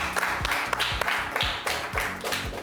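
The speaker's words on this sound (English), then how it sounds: "You should give him a round of applause." A small studio audience at a Cowbellpedia quiz show claps in a short, uneven burst, with several distinct sharp claps standing out over a background of hall noise.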